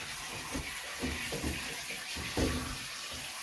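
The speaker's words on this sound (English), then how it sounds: "I'm going to rinse them in cold water to get all the starch off" Cold tap water pours over drained lasagna noodles in a colander, a soft continuous rush with irregular splashes and gurgles as the noodles shift, fairly quiet and with no talking.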